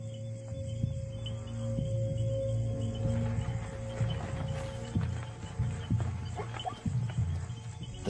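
A zebra herd moves through the bush at night, hooves thudding and shuffling at middle distance over a steady bed of chirping insects, with a low continuous drone underneath.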